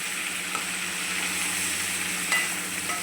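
Spiced, pre-marinated chicken for Mughlai-style chicken changezi sizzles steadily in a pan while being stirred, a continuous close frying hiss with a few soft scrapes, no voices.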